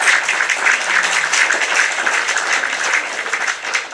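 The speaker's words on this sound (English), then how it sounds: "We're gonna clap in advance." Steady, dense clapping from an audience during a live stream, continuous and fairly close with no break.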